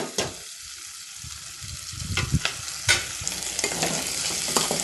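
Ginger and vegetable pieces fry in a little oil for a coconut pulao, a close crackling sizzle broken by a quick series of scraping, clattering stirs with a spoon against the pan.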